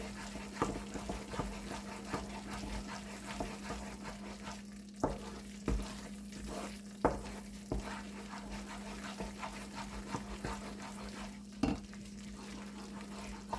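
A spoon stirring milk powder mava in a pan after the gas is switched off, with soft scraping strokes and occasional sharper taps over a steady low hum, no talk.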